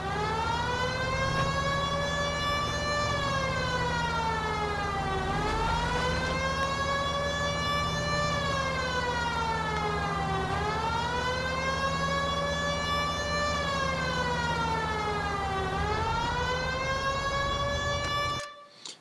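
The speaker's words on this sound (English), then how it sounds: "Keep the siren going because it stops all the traffic" A police car siren from the video game L.A. Noire wails loudly and continuously, sweeping up and down in long, even cycles of about five seconds before cutting off at the end.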